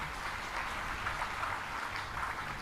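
An audience at a Hindu religious discourse (katha) claps together in a dense, steady burst of applause that fills the hall for a couple of seconds with no voices over it.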